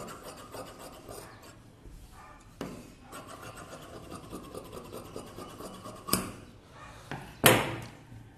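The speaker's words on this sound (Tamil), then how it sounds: "இப்போ பேக் வச்சு நான் இதை கட் பண்ணி எடுத்துடுறேன்" Scissors cutting through blouse fabric for the back piece, a steady soft rasping and rubbing with a few sharper snips near the end, close and alone without talk.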